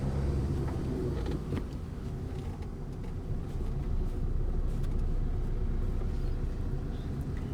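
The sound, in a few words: car accelerating and shifting into second gear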